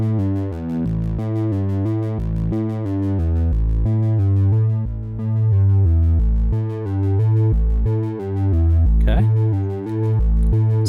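Sequential Pro 3 synthesizer playing a triangle-wave bass patch with its shape mods being adjusted, a steady run of sustained, pitched bass notes that shift in tone, loud and alone, with a brief swooping pitch sweep near the end.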